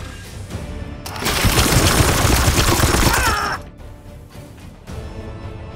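Support fire in Warhammer 40,000: Chaos Gate - Daemonhunters, a loud sustained burst of rapid gunfire lasting a couple of seconds, then dropping to quieter ambience.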